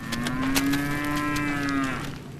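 A farm cow lets out one long, steady moo, close and fairly loud, lasting about two seconds and fading at the end, with no one talking.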